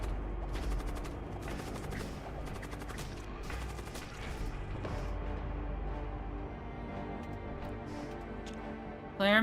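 Ships in the space game Void War trade fire: rapid bursts of clicking, crackling shots in quick volleys over a low hum, repeating in clusters, fairly quiet, with a louder burst right at the end.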